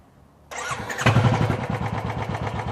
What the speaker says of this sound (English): Now, I'll start the bike up.